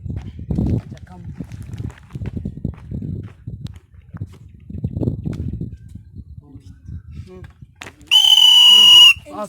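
Talk and some background shuffling on a Survivor game course, then a single loud, sharp whistle blast near the end.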